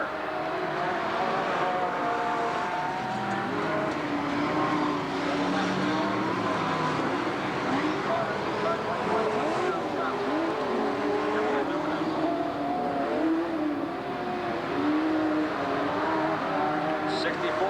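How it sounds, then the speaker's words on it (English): Late model and sportsman race cars lapping an oval track during an open heat race, with a continuous roar of engines that rises and falls as the cars pass, under a steady announcer's voice. "Now chasing him down in car 64 is Mark Brunner"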